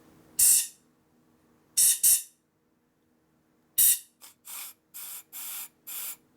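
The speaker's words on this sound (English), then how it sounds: "we definitely got air blowing through it" Short bursts of compressed air hiss through a Harley twin cam connecting rod in irregular puffs, several separate blasts with silence between them, close and sharp.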